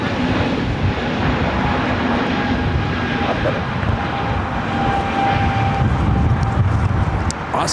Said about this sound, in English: Now pushing back the 777.